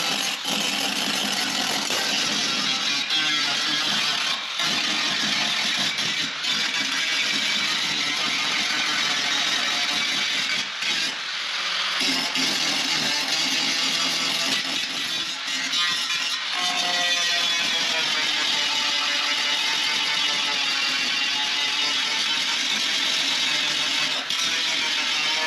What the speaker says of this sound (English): So I'm gonna grind all this off